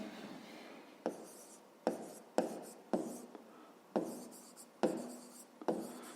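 A pen writes on paper while working a school maths exercise, with quiet scratchy strokes and sharp taps at the start of each stroke in an irregular rhythm, close and faint.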